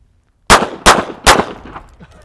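Three sharp, loud pistol shots from Al Capone's old handguns ring out in quick succession, each with a short echoing tail, then fade into quiet reverberation.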